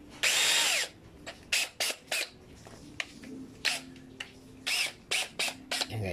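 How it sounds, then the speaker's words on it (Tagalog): A power drill with a drill bit bores a hole during a washing machine repair, running in a long high whine first and then in several short bursts with pauses between them. "Ito guys, itong drill bit gagamitin natin."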